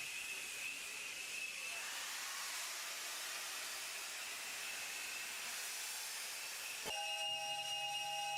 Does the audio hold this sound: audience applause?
no